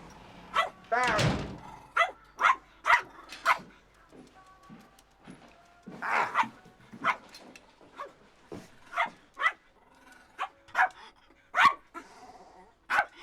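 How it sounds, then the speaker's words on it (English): A dog in a room vocalises in a string of short, sharp bursts, with louder barks and a dull thump like a door early on, near and moderately loud, with no talking. "Why does he growl every time he sees me?"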